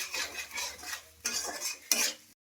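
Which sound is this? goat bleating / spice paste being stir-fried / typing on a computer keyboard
spice paste being stir-fried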